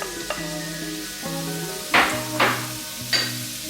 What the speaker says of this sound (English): Once our water is on fire, we are coming to start to fry our veggies.